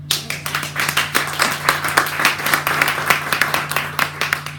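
An audience at an evening tech meetup in Niort claps together, a lively burst of many hands close by, steady and even throughout, over a constant low hum from the room.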